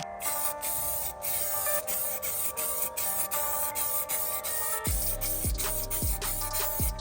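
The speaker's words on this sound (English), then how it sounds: "now I'm just about to put a bit of copper primer on there." Copper primer sprayed from a can onto fabricated steel suspension parts makes a steady, close aerosol hiss throughout, joined near the end by a few dull low knocks.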